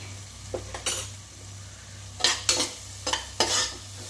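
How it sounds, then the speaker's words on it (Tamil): Drumstick leaf soup ingredients with salt are sautéed and stirred in a pan, with bursts of spatula scraping and clinks over a soft background sizzle, clear and close with no talking. "இதெல்லாம் நல்லா மிக்ஸ் ஆகிற அளவுக்கு நல்லா வதக்கிக்கலாம்"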